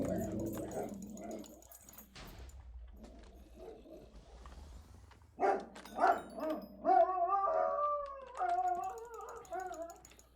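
An old pet dog howls and whimpers in several drawn-out, wavering bursts, faint at first and then rising into louder, tonal howls, with a person's voice murmuring in the quieter opening.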